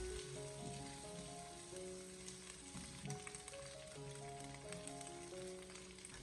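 Ham sausage stir-fried in a wok over low heat, a steady sizzle running under continuous melodic background music with no speech.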